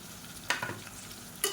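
Onion paste with ginger and garlic being sautéed in a pan, with a soft steady sizzle and a few brief scraping stirs, close and fairly quiet.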